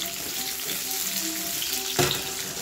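Cipollini onions sear in a hot pan, giving a steady, close sizzle with a short clatter near the end, no talk over it.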